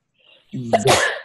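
One close, sharp sneeze bursts out in a quiet studio setting, preceded by a faint intake of breath.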